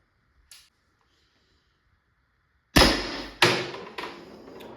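A Tippmann TMC paintball marker fitted with an aluminum Venturi Star bolt fires three sharp, loud, close shots about half a second apart. Each one thumps and then rings off quickly. Before them there is a faint click and then silence.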